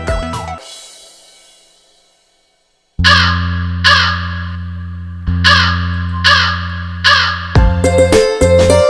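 Crows caw loudly in a Tamil children's song: about six harsh, evenly spaced caws follow a short silence, and musical tones join toward the end.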